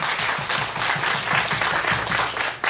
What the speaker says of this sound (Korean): 다시 한번 감사 박수 드릴게요